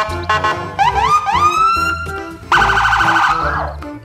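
A toy police car sounds its electronic siren loudly and close by: rising wails followed by a rapid warbling yelp tone that then cuts off.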